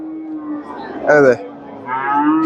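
A Friesian heifer at a cattle market in Chandaikona lets out a loud, close moo, with a second lowing call following over a quiet background hum.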